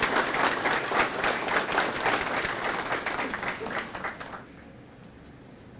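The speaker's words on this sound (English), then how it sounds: "I'd like to have a round of applause for them" Applause from the audience at a Veterans Day ceremony held by a VFW post in Hays, Kansas, a full burst of clapping that rolls for about four seconds and then cuts off to near silence.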